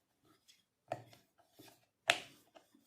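Wheat flour dough, mixed with curd, being pressed and rolled out with a rolling pin, giving a few soft, irregular rubbing and thudding strokes close by, with one firmer knock near the end.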